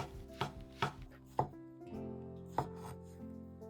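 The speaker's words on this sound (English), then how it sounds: "Good, and I slice it. I use 2 shiitake mushrooms" Knife chopping through shiitake mushrooms on a cutting board: a few crisp, close taps spaced unevenly, then a softer, slower slicing rhythm, with no voice over it.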